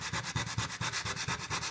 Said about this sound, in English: Sand it just a little bit because when I unscrewed that, it's kind of puffed it out.